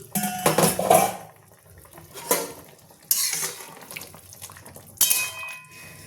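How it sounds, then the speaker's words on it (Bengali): A metal lid is lifted off a pot of simmering vegetable curry, with several sharp clanks and rattles spread across the moment, near and fairly loud, and quieter handling sounds between them. "এবার আমি একবার ঢাকনটা খুলে দেখে নিচ্ছি।"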